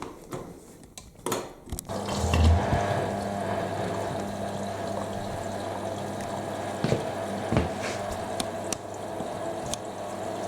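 Water rushes steadily into a Hotpoint WD64 Aquarius Extra washer dryer at low water pressure, a continuous hissing flow with occasional clicks and clunks, fairly quiet and close.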